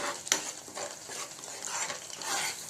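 A spoon stirs a thick sauce mixture for crispy chicken lollipops, giving soft wet scraping and squelching strokes that come and go close by, with a faint sizzle underneath.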